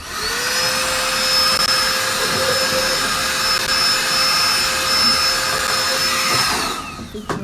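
Compressed air blasting dust out of a Glowforge laser cutter's circuit board, a loud, steady hissing roar that holds for about seven seconds before cutting off abruptly.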